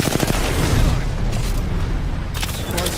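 Sustained gunfire and booming blasts in the online shooter Apex Legends, dense and continuous across the stretch with a heavy low rumble, heard alone without talk.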